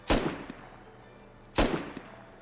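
Two sharp, booming gunshots in the video game Rust, about one and a half seconds apart, each with a short echoing tail, over a faint steady background hum.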